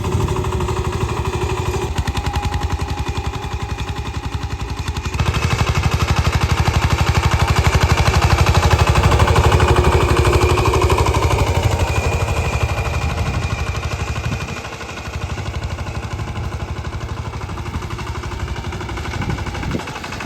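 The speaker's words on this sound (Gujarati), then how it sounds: "આ જો નાના ટ્રેક્ટરે આ પાળા ભાંગે છે" A small tractor breaking down field ridges before peanut sowing: a loud, close, rapid diesel chug that runs steadily throughout, swelling in the middle and dipping briefly before carrying on.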